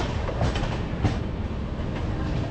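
The Delhi SF Express passenger train runs on the line between Pathankot and Jalandhar, heard from onboard as a steady, loud, close roar with faint rhythmic clickety-clack of wheels over rail joints, with no talking.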